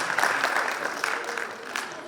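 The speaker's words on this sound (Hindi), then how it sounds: "जोरदार तालियां इसके लिए।" At a National Youth Day gathering at the Maha Kumbh in Prayagraj, an audience gives a child a short round of steady, moderately loud clapping from many hands, holding level before easing slightly.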